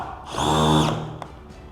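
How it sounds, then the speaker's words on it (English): A power drill with a Torx bit drives a batten screw into timber on a solar roof install, a brief rising whine of about half a second that stops abruptly, followed by a faint click. "I essentially will put a batten screw into the timber"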